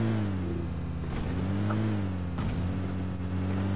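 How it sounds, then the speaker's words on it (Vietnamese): A car drives in PUBG Mobile with a steady, droning engine hum that rises and falls slightly in pitch as it moves, continuous and fairly loud, with no talk. "Đây xe này."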